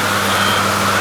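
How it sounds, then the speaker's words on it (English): Large ventilation fans run inside an egg-layer poultry house, a loud, steady whooshing roar with a low humming undertone and no break. "These are the large fans are running to keep it cool."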